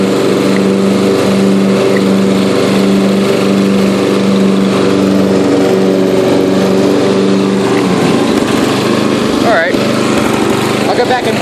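A Yard King riding lawn mower drones steadily at close range, its engine running a constant hum while mowing grass, with a brief shift in tone near the end.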